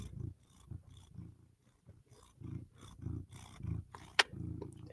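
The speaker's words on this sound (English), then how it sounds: "We got some goodbye purrs." A cat purrs in close, soft rumbling bursts that pulse on and off in a slow rhythm, with a brief sharp click near the end.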